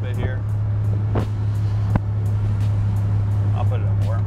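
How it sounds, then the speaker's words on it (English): Turbo flutter from a 1986 Buick Grand National with exhaust cutout, heard as brief chattering bursts over a steady engine drone inside the car on a test drive. "The turbo flutter."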